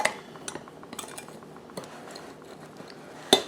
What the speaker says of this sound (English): So let's stir all this up.